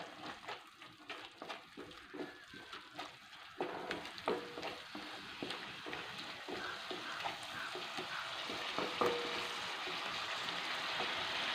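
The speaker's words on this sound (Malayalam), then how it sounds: "ഇതൊന്ന് കൂട്ടി യോജിപ്പിക്കുക എല്ലാം കൂടെ" A spoon stirs a carrot mixture seasoned with a pinch of salt in a pan, soft rhythmic scraping over a faint sizzle that grows into a steadier hiss, quiet and close.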